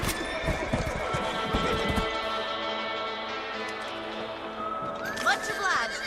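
Horses whinny and snort over rhythmic hooves in Red Dead Redemption, with music underneath and a sharp neigh near the end.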